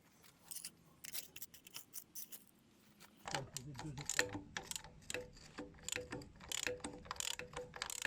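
Bursts of faint ratcheting and scraping clicks come from work on the gear lever support of a Renault N71 as it is unscrewed. The sounds are close but quiet and grow busier and louder partway through.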